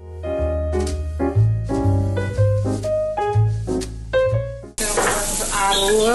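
Fresh garlic hits a hot pan after a stretch of bright melodic music, then bursts into a loud, hissing sizzle that fills the last second or so.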